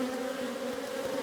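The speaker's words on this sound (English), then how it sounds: "Unhappy bees." Agitated honey bees in an opened hive give off a steady, close buzzing drone, even and unbroken through the brief moment, with no talking.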